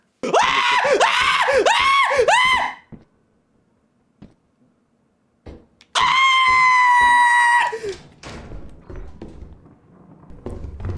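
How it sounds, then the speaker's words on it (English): Very loud, shrill girlish screaming breaks out in two bursts, the first a series of rising and falling wails and the second a sustained piercing shriek, with a quiet pause and a few thumps between. "Warning, very loud girlish screams ahead."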